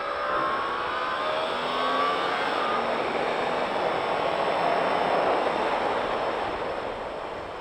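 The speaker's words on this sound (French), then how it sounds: "On accélère bien dans la ligne droite." A Yamaha R1 motorcycle accelerating on a track day circuit, with a steady loud engine roar and rising tones under heavy wind rush, sustained and close throughout.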